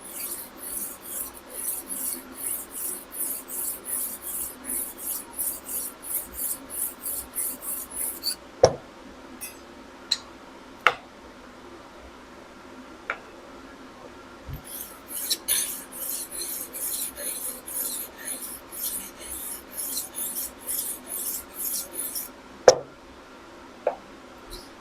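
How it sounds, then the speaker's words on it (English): A cheese knife being sharpened on a 3000 grit disc of a rolling knife sharpener, rapid rhythmic rasping strokes in two long runs separated by a quieter stretch with a few sharp taps, close and alone. "run your 3000 up and down the disc, turning the roller at the end in the shape of this blade."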